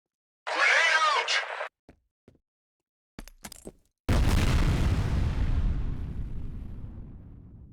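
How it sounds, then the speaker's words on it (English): A grenade explodes in the video game F.E.A.R., a loud, sudden boom that rolls out into a long fading rumble, preceded by a short burst of voice and a few faint clicks. "Grenade out!"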